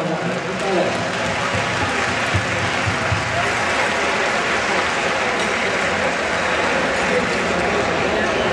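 A large crowd at the 97th anniversary celebration of the Centro Asturiano de Buenos Aires applauds loudly and steadily for several seconds, a dense, unbroken roar of clapping with voices murmuring underneath.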